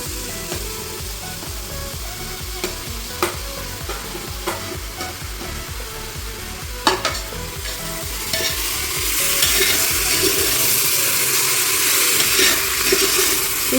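Chopped tomatoes sautéing in a pan, a steady close sizzle broken by sharp clicks of stirring and scraping, the hiss growing louder and fuller in the last few seconds.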